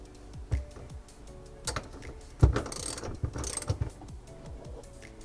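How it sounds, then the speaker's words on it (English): A socket wrench ratchets in short bursts of quick clicking while working on the liftgate of a 2019–2021 Toyota RAV4, close and crisp, with clunks and handling noises between the runs and no speech. "the socket wrench."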